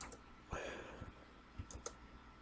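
Quick, faint clicks of a computer keyboard come in small clusters as a search is typed into Google, with a soft room hiss behind them.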